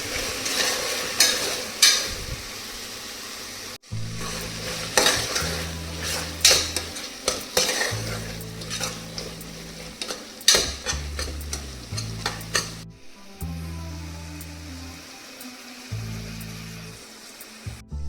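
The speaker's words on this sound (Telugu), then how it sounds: "దీంట్లోకి నీట్గా కట్ చేసుకొని వాష్ చేసి పెట్టుకున్న కొత్తిమీరని వేసుకోవాలండి ఇప్పుడు ఒకసారి కలుపుకోవాలి" Tomato rice with fresh coriander stirred in a pan, with repeated scraping and clinking of a spoon against metal in an uneven rhythm over a soft sizzle, close and clear, broken by brief cuts.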